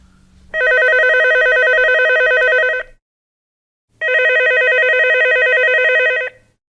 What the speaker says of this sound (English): The phone rang, and Susie answered it.